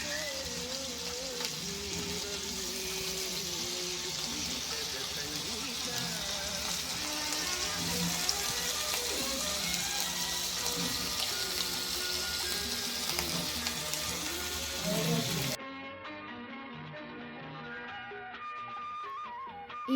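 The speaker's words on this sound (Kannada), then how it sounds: "ಈಗ ಇನ್ನೊಂದು ಸೈಡ್ ಫ್ರೈ ಆಗಲಿಕ್ಕೆ ತಿರುಗಿಸಿ ಹಾಕಬೇಕು." Black pomfret shallow-frying on a tawa in oil, a dense, even sizzle close by with spattering crackle, then a sudden drop to near quiet near the end.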